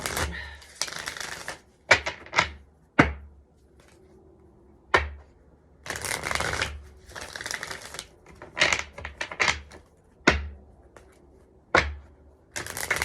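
Starseed oracle cards being shuffled by hand, bursts of crisp riffling and slapping clicks in uneven runs separated by short quiet gaps, close and clear with no talking.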